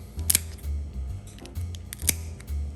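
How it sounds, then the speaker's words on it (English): Kitchen scissors snipping through the segments of a lobster tail shell, a few crisp, close clicks and crunches spaced irregularly over a low hum. "you have these little segments right here. You're just going to cut each one."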